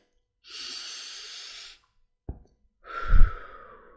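A slow, deep breath drawn in and then released, alone in a quiet room, with a soft exhale and brief pause before a heavier outward breath.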